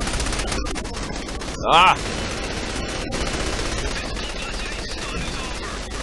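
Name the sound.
gunfire in Saints Row: The Third video game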